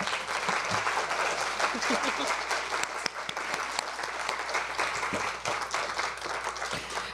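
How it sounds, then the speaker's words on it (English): A room full of audience members at a talk on Japanese American incarceration breaks into steady, continuous applause, close and full, with scattered louder individual claps and faint voices mixed in. "Can you join me in a round of applause for Susan Kamei?"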